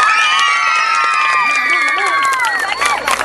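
Crowd of children and adults cheering and shouting at a children's king and queen pageant during traditional town festivities in Tejutla, Chalatenango, loud and close, with whoops and scattered clapping over high excited voices.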